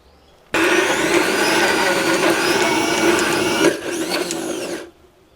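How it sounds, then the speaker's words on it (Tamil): A mixer grinder grinds urad dal batter with coconut, starting abruptly into a loud, steady motor whir that shifts pitch briefly near the end before cutting off, running alone. "இப்போ நாங்கள் நல்லா அரைச்செடுப்பேன்"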